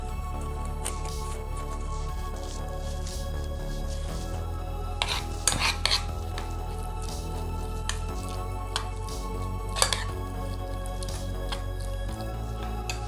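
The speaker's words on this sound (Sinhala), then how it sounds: "මේ ටික හොඳට කලවම් කරගන්න ඕනේ" Utensil scrapes and clinks against a bowl while a thick homemade carrot oil mixture is stirred, a few louder knocks among soft squishing, no talking.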